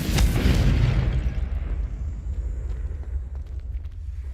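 A fiery Confringo blast spell erupts in Hogwarts Legacy with a loud booming burst up front, then a rumbling, crackling tail that fades over several seconds.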